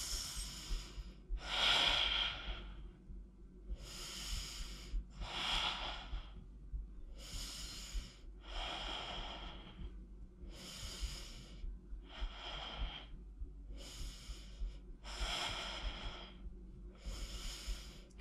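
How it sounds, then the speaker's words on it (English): Slow, steady cycles of audible breathing during a yoga-style flow workout, each inhale and exhale drawn out and close, repeating about every couple of seconds with no talking. "I inhale to come to the center and I exhale to rotate."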